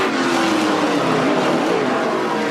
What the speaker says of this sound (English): Now it's going to be a drag race down the straightaway here.